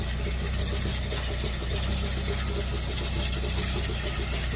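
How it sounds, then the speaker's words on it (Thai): A small tractor engine drones steadily at close range inside a greenhouse while spreading pelleted manure. A constant low rumble with mechanical rattle continues throughout, with no pauses. "อันนี้ในเฮาเป็นรถไถคันน้อย ใช้แบบนี้ปั่นออกเลยครับ"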